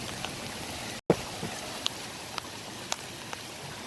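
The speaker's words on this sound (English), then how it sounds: "Jesus, it is raining pretty bad." Heavy rain falling outdoors in a steady, dense hiss of drops, with a few sharper splats on nearby surfaces and one brief dropout.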